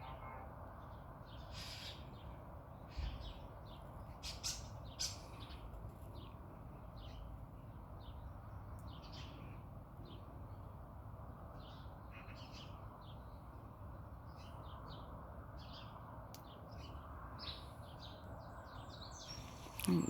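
Garden birds call in the morning near freshly sown ground, giving scattered short chirps and harsher caws at intervals, fairly distant, over a low steady background hum, with no talking.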